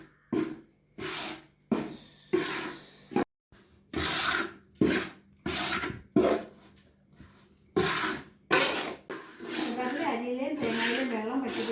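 Rice and coconut mixture for avalose is stirred in a pan over medium heat, a close, rhythmic series of dry scraping and rasping strokes, and a person talks during the last few seconds.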